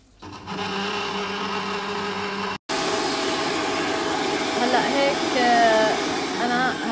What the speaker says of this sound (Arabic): رح اشغل الخلاط لحد ما يجمدوا